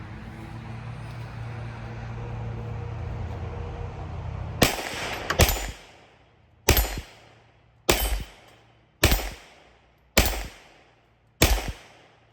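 A Colt .32 ACP pistol fired six times in a slow, even series, each shot a sharp, loud crack with a short echoing tail, following a stretch of low background rumble.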